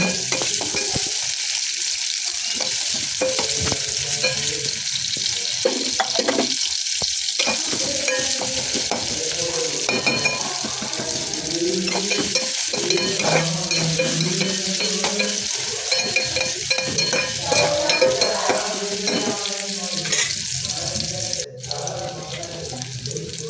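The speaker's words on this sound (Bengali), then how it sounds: "এবার নেড়ে ছেড়ে ভেজে নেব। অপেক্ষা করছি পেঁয়াজ নরম হয়ে আসা পর্যন্ত।" Sliced onions with green chilli and garlic fry in a pan as a spatula stirs them, a continuous sizzle broken by repeated scraping and clinking strokes, with a brief faint voice in the background.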